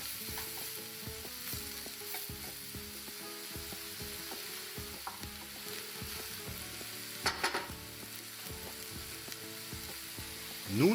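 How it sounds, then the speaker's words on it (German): 150 grams of minced beef searing over high heat in a pan, a steady low frying crackle with quiet scraping and clinking of a utensil now and then, no voices. "150 Gramm Rinderhackfleisch scharf anbraten"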